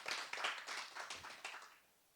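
A church congregation claps during a Wednesday worship service: a quiet scatter of hands that fades out over about two seconds, heard alone.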